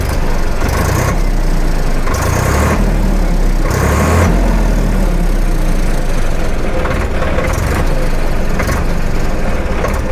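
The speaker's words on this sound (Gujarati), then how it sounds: "તો મિત્રો આ રીતે આ ટ્રેક્ટરનો અવાજ આની અંદર આવવાનો છે." Swaraj 855 FE tractor diesel engine idling nearby, a loud steady low rumble with a few brief surges in throttle near the start, and no talking.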